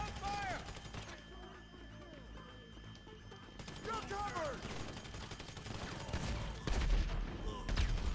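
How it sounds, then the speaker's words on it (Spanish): Bursts of gunfire in GTA V Online: rapid overlapping shots at mid distance that come in clusters throughout, with louder bangs near the end, mixed with other game sounds. "¿Quién está disparando?"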